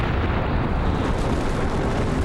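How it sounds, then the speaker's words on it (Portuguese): A deep, rumbling explosion effect standing in for the Big Bang, a dense sustained roar of broadband noise with heavy low-end weight, loud and constant throughout with no voices. "o universo sofreu uma grande explosão que arremessou o espaço para fora"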